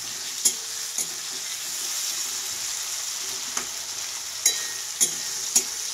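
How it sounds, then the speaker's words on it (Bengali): Spice paste fries in leftover fish-frying oil, giving a steady loud sizzle throughout, with several sharp clinks of a utensil scraping and stirring the pan at irregular intervals. "এবারে মশলাটাকে এই তেলেই আমি ভাজছি"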